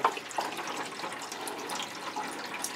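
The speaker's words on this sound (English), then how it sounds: "It drains off nicely with the wetting agent." Water drains off a darkroom photographic print treated with wetting agent, a soft steady trickle and faint patter with a few small drips, quiet and close, no voices.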